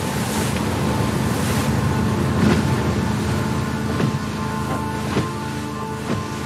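Sea waves and open-water ambience in the Uncharted 4 video game at Libertalia, a steady broad wash of surf with low rumble and occasional swells, continuous and fairly loud with no voices.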